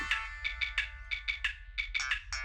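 A mobile phone ringtone chirps in a film scene, repeating in quick bright bursts with short gaps, fairly clear over a low background rumble, with no one speaking.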